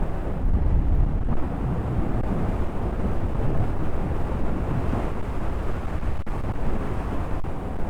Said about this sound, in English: Being a naked bike, I'm getting quite a lot of wind blast on my chest